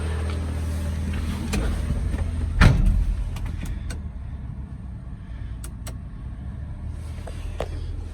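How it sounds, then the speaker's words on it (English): A 1998 Suzuki Carry two-wheel-drive mini truck with a 5-speed gearbox, warmed up and driving around a parking garage, gives a steady low engine drone with one brief louder thump partway through, and no talking. "here's a quick driving video of the 1998 Suzuki Carry two-wheel drive"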